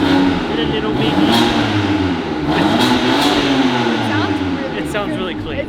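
A BMW G80 M3 Competition fitted with an iPE exhaust revs steadily, its engine note rising and falling close by while people talk over it throughout.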